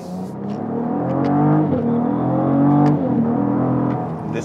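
A 2022 Cadillac CT4-V Blackwing with a 6-speed manual gearbox accelerates hard, its engine note rising and swelling steadily, loud and close, with a brief dip between gears and no talking.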